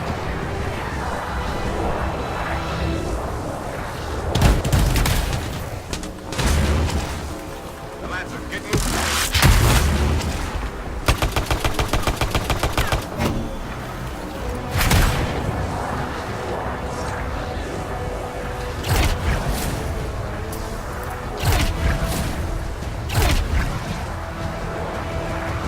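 Turrets firing during combat in the video game Anthem: repeated booming shots and rapid bursts of gunfire over a steady rumbling backdrop, with heavy impacts spread across the scene, continuous and moderately loud.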